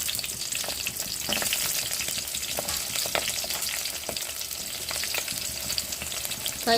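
Steady, dense sizzling of onions and green chillies frying in hot oil with tempering seeds, with a few scraping stirs, close and continuous throughout, no voices.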